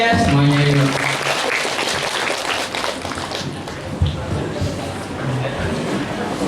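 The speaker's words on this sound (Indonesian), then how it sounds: "Tepuk tangan ya semuanya yuk" Junior high school students applaud together in a hall, a broad patter of clapping after a short spoken phrase, continuing with scattered voices underneath.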